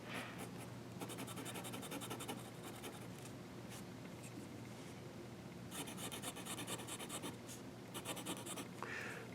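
A fountain pen nib scratches across paper in short, repeated strokes while drawing, quiet and close, with soft rasping bursts and pauses and no voices.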